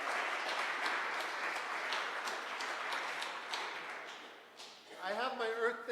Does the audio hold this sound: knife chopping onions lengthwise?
no